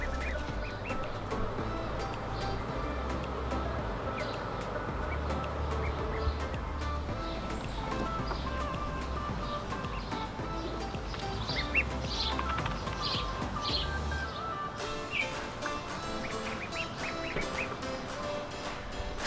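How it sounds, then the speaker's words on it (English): Ducklings quack and flap in a small contained pool area on an urban homestead, with busy overlapping calls, splashy wing flutters and chirps continuing steadily throughout. "brought the ducklings out, and they seem to be really enjoying themselves out here"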